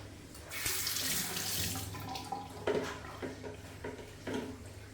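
Tap water runs steadily into a sink while a brass watch dial is washed with hand soap, a close splashing rush with small knocks and handling sounds breaking through.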